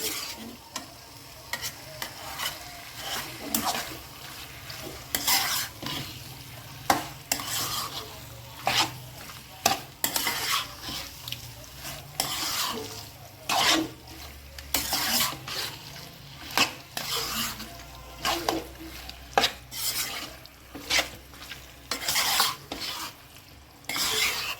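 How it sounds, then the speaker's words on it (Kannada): Chicken gravy frying in a pan over high flame, stirred with a metal utensil that scrapes and clanks against the pan in irregular strokes over a low sizzle, close up. "ಸೊ ಅದರಿಂದ ಸುಮ್ಮನೆ ಹಾಗೆ ಫ್ರೈ ಮಾಡ್ಕೊಳ್ತಾ ಇರೋದು"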